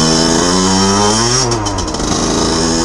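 A Gilera SMT racing motorcycle engine, fitted with a can-made cylinder head gasket, revs loud and close, climbing and then dropping in pitch as it accelerates, with a harsh buzzing two-stroke tone throughout.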